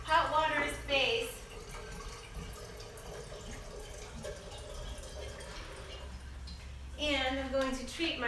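Hot water pours and trickles into a cup for a tonic, a soft steady stream that starts and stops, with a person speaking nearby at the start and end.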